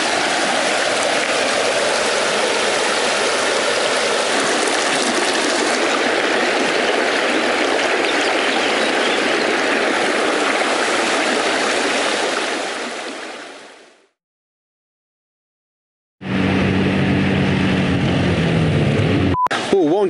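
Rushing Alpine river water, a loud continuous wash close by, running steadily before cutting to brief silence and then returning just as strong.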